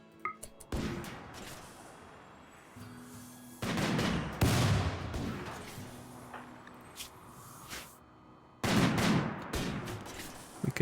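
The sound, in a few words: gunfire in RimWorld video game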